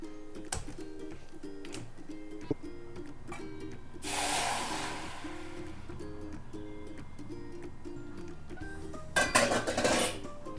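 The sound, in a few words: stirring tamarind pulp in a hot pan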